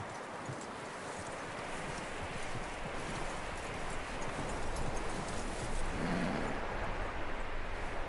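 Horse hooves clip-clop steadily on dirt in the Red Dead Redemption 2 video game, a continuous loud trotting rhythm with rustling ambience and no talk.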